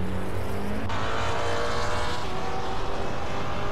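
A racing car engine in a racing game drones steadily and loud throughout, a constant high mechanical roar with a slight shift in pitch partway through and no talking over it.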